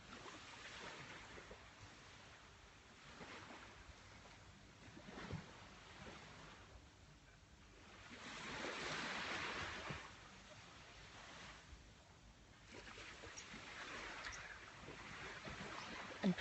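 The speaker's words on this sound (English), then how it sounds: "whilst we listen to the waves on the shore" Waves wash onto a shore in Thailand, a faint soft surf that swells and recedes in slow, broad surges, distant and steady with no voices.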